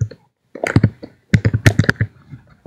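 Two bursts of quick, crisp keystrokes on a computer keyboard as a search is typed, loud and close, separated by a short silence.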